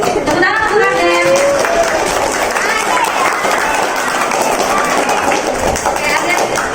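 Students and parents clap for a pupil called up at a school report-card ceremony, a steady wash of applause under children's voices and talk throughout.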